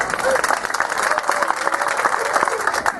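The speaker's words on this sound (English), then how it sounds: "give everybody a hand of applause for all the volunteers here" Audience applause for volunteers at the Ann Arbor Rolling Sculpture Car Show 2012 awards, a dense, steady wash of clapping held for about three seconds with voices mixed in.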